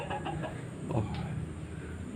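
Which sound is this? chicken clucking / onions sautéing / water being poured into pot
chicken clucking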